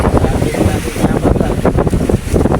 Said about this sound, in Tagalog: Malakas ang hangin, malaki ang alon.